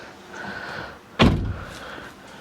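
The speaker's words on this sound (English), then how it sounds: "Let's close the door." One firm car door slam on a Nissan 350Z track car, close and sharp, after a moment of quiet rustling, with a brief low rumble trailing off.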